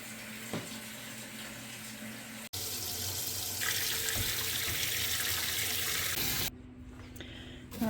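Tap water runs steadily into a sink while grill parts, including the baffle of a Blue Star grill, are hand washed after cooking steak; the flow is continuous, briefly cuts out once, then resumes and changes tone near the end.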